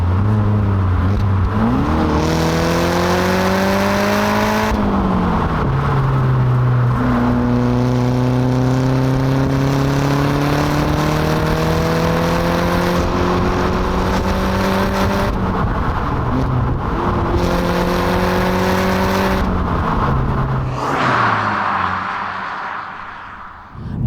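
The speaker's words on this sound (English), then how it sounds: "this one, despite the fact it's the 4-cylinder, not the 6, even sounds pretty good too" An Alfa Romeo Brera S with its four-cylinder engine revs repeatedly, the pitch climbing and dropping in several long, loud sweeps, close up and with no one talking.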